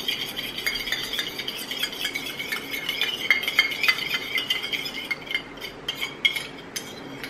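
A spoon stirs a pure cold-pressed castor oil mixture in a small container for eyelash serum, giving a steady run of soft scraping and clinking strokes, close and continuous with a few sharper taps toward the end.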